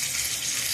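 Spices frying in oil for tempering a mango ginger pickle give off a brief, steady, close sizzling hiss with no talk.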